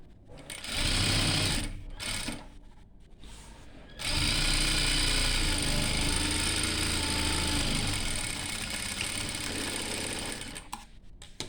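A sewing machine runs the side seam of a petticoat with a close, steady motor whir, first in a short run and then in a long continuous stretch of stitching.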